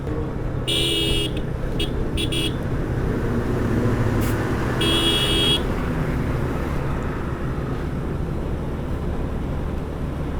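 Steady road traffic on the Chapainawabganj highway in Bangladesh, with a continuous engine and tyre rumble from passing vehicles and several short horn blasts sounding over it, loud and close throughout.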